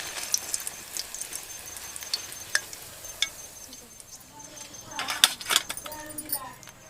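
Aloo mirchi bajji frying in hot oil, a soft crackling sizzle with scattered sharp pops and clinks, under a voice speaking.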